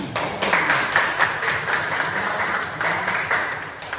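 A classroom of students claps together in a short, steady burst of applause, fairly close and continuous for a few seconds with no talking over it.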